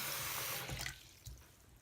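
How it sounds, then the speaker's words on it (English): Tap water runs into a slow-draining clogged sink with a close, splashy rush that cuts off partway, then a few soft drips and gurgles follow. "So turning on the water, normal use, washing your hands, whatever it may be."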